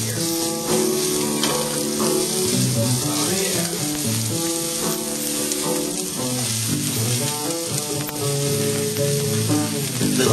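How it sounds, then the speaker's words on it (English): Onions sizzle loudly in a hot frying pan, a steady crackling hiss with occasional stirring scrapes, close up and continuous. "once we get some sizzling action, time to add the onions"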